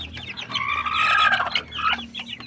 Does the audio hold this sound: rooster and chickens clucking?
yes